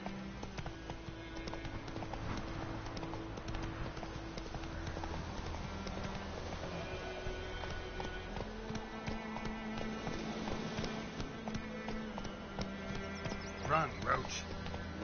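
A horse gallops in The Witcher 3 video game, giving steady rapid hoofbeats under game music and effects, with voices talking over it.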